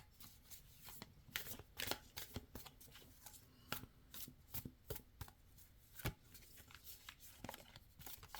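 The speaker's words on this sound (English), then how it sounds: "let's pull 3 cards" Tarot cards shuffled and drawn by hand, with a series of close, crisp riffles and snapping flicks in an irregular rhythm and brief quiet gaps between them.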